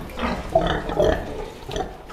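Grunting from large pigs of a fast-growing giant breed in a farm pen, several rough low grunts in irregular bursts close by, with water or sink-like noise in the background and no talk.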